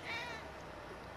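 A cat meows in a video game, a single drawn-out cry in the open over a steady background of in-game ambience.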